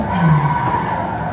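A car's tires squeal in a steady skid as they lock under braking in a racing simulator at Meihan Sportsland, over the hum of an engine, loud and close, lasting about a second.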